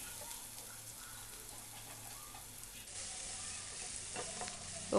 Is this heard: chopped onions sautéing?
yes